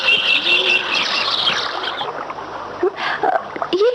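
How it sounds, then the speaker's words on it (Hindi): A high, ringing call of a wild bird sounds out over splashing water and low outdoor background noise. "ये कैसी आवाज थी? वो एक जंगली चिड़िया की आवाज है।"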